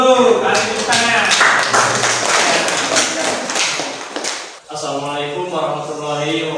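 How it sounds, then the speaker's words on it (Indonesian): Classroom applause from a group of students, a dense run of overlapping claps for about four and a half seconds that cuts off sharply, followed by a voice speaking alone. "kasih tepuk tangan"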